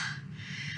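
A voice imitates a character's panting in a short, breathy gasp that sounds close and raspy.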